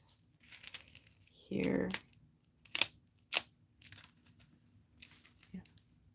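Scissors snip through material while working on a painted rock art piece, a short crisp cutting and crinkling burst followed by a few sharp clicks, close and moderately loud, with a person speaking briefly in between.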